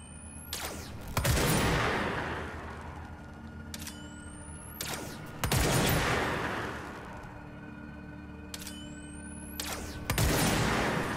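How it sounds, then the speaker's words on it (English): Gunfire in the video game Control comes in three heavy bursts a few seconds apart, each a loud booming blast with a sharp rising whine and a lingering rumble, close and alone with no talking. "Can I just keep shooting this guy?"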